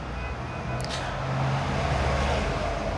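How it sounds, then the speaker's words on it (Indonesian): Road traffic noise as a car passes by on a nearby street, a steady low engine and tire rumble building slightly in the second half, with no voices. "Sorry, mobil lewat."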